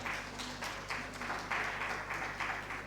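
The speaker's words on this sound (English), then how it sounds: "can we please give him another round of applause?" A crowd at a national migrant dialogue opening ceremony gives the Deputy Governor of Nasarawa State another round of applause, a soft, steady patter of clapping heard at a distance over a low hum.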